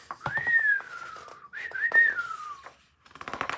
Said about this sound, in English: I wonder what Willie's going to do if he hears that whistle